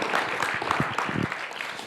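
Audience applause following a talk at a façade design event, a short burst of many hands clapping at moderate loudness, with a voice briefly audible.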